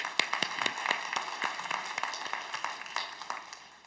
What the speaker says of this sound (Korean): 하나님께 박수로 영광을 드리겠습니다.